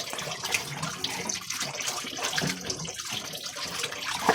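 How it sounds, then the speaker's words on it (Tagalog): Plates washed in a sink under a running tap, a steady splash of water with faint clinks and shifting dishes, close and continuous, with no voices. "Hugasan na kanan plato"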